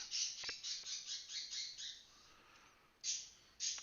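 A pet bird gives a quick series of shrill chirps and squawks, then pauses and lets out two sharper calls, fairly close and with no talking.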